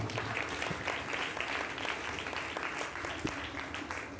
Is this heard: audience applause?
yes